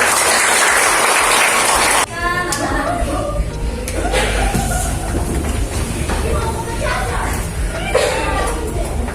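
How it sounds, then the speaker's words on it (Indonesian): Students in an Indonesian school classroom applaud during an arts and culture lesson: a brief burst of group clapping at the start gives way to children's voices and a teacher talking over a busy room. "Luar biasa, tepuk tangan dulu."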